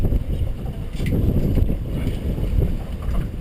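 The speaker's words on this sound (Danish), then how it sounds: "Vinden er begyndt at tiltage, og der er begyndt at komme lidt hvide skumtopper på." Strong wind buffets the microphone on a boat out at sea off a Danish reef as the breeze strengthens, a continuous low roar with gusty swells and faint water splashes underneath.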